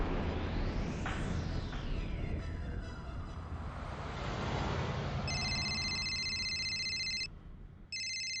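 A telephone rings twice in electronic tones near the end, after a plane-like whoosh sweeps through the first seconds.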